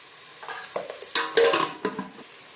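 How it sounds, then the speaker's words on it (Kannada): Salt and turmeric powder are stirred into a frying pan of pulao ingredients, with irregular spoon scrapes and knocks over a light sizzle heard up close. "ಮತ್ತು ಅರಿಶಿನ ಪುಡಿಯನ್ನು ಹಾಕಿ ಬೆನೆಯಲು ಬಿಡಿ. ಮಿಕ್ಸ್ ಮಾಡಿ ಬೆನೆಯಲು ಬಿಡಿ."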